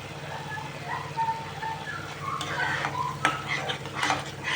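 Grated paneer tipped into a pan and stirred for bhurji, with soft scraping and clinks of a spoon against the pan at a low level, a few sharper knocks toward the end.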